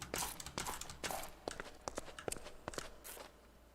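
Shuffling enemy footsteps in the TerraFirmaCraft video game, a quiet series of soft crunching steps in an uneven rhythm at low volume, with no talk.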